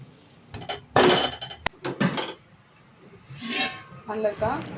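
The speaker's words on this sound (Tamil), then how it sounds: "குக்கர் மூடி தான் போடுறேன்" A metal pressure cooker lid set onto the cooker in a home kitchen while cooking chicken biryani, with several clanking, clinking metal knocks close by, mixed with a person talking.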